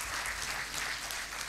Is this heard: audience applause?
yes